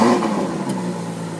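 A 2018 Ferrari 812 Superfast with an 800 hp V12 engine revs close by, a loud, brief burst of engine roar that settles into a steady idle-like hum.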